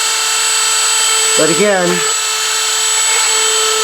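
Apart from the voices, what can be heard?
Dremel rotary tool grinding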